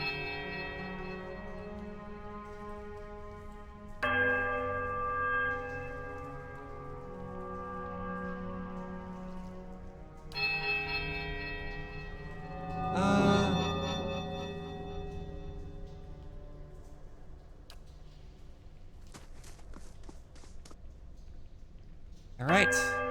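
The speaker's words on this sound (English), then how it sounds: "Ring the left smaller bell." Iron bells in the fantasy game Pillars of Eternity ring one after another, each strike ringing out and slowly fading across ruined halls, with a steady low drone underneath.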